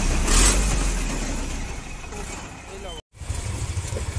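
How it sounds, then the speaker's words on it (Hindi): Busy market-street traffic in Kanchanpur, North Tripura: a steady rumble of car and truck engines with some revving. The sound cuts out abruptly for a moment, then resumes, and voices murmur beneath it. "यहाँ में जो है ट्रैफिक बहुत लगता है।"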